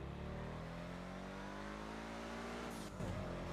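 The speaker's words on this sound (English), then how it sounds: "I'm test driving his sorry car." A car engine in the GTA V roleplay game drones loud and steady, with an upward rev near the end and no voices over it.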